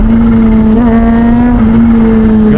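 A Kawasaki ZH2 motorcycle held at high revs, loud and close, a steady droning engine note with a brief blip and small pitch wavers, no voices.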